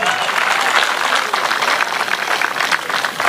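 A crowd claps steadily throughout, loud and dense, at a Punjabi folk song performance at Khalsa College, Amritsar.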